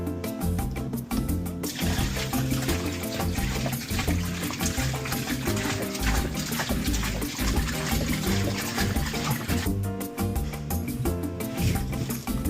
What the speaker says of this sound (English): Now let's add the new salt water into the aquarium.